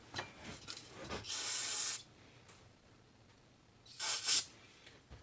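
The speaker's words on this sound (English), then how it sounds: "I will give it a blast of cleaner" Carburetor cleaner is sprayed into a Honda TRX400 ATV carburetor in two sharp, close hissing bursts separated by a short pause, with faint handling noises around them.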